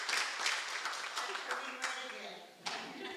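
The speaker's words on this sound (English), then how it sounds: "Big round of applause to all the directors." Attendees at a city commission meeting in Rio Grande City applaud the directors, a moderate round of scattered hand claps with a voice speaking faintly underneath, easing off near the end.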